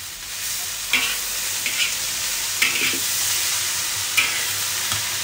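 Vegetables and tomato cooking in a pan for a bihon dish, a steady soft sizzle with a few brief scrapes of stirring, close by and without talk.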